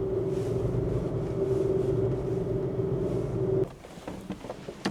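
Car engine left idling at a high-altitude mountain pass, a steady low hum that cuts off abruptly near the end, followed by quieter outdoor ambience.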